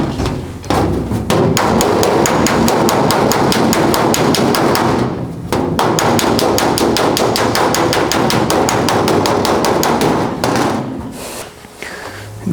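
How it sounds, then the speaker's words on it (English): Rapid, loud metallic hammer blows on sheet metal while a low spot is worked out, a dense continuous rhythm of close strikes that pauses briefly twice and then trails off near the end. "There's a low spot right here. I could probably hammer out."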